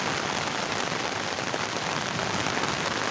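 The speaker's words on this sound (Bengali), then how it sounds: "ইস্টার্ন হাউজিংয়ের বৃষ্টির অবস্থা" Heavy rain pours down at a street crossing in the Eastern Housing area, a dense, unbroken hiss of drops hitting the flooded road, steady and enveloping with no voices.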